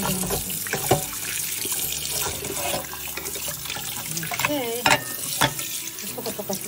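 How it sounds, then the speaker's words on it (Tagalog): Rice being washed under warm running water at a kitchen sink: a continuous close splashing and trickling stream with swishing and clinks from stirring the grains. "Hugasan natin ng warm water"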